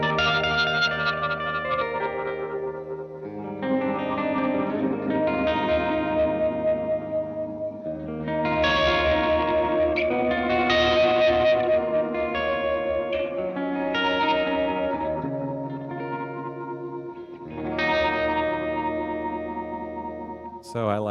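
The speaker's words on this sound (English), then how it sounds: "if you adjust the drive, once again, that's kind of feeding the drive signal and the amount of going to the spring tank, so you get various degrees of grit" Gamechanger Audio pedal with its drive feeding a spring reverb tank, playing sustained chordal tones with audible grit, chorus-like shimmer and echoing tails, phrases swelling and pausing, loud and steady throughout.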